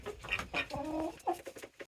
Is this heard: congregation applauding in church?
no